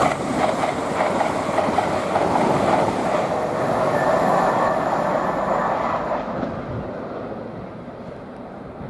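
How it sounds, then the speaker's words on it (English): Class 802 unit 802-302, on a Hull to London King's Cross service, speeds through Potters Bar station on the East Coast Main Line, a loud close rushing roar with rail hiss that fades over the final seconds. "now passing through is 802-302 with a service from Hull to London King's Cross"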